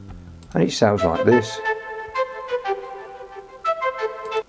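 A brief spoken line gives way to a synthesized D flute from Magix Music Maker's brass section, playing a sequence of clear, sustained tones with short bright attacks.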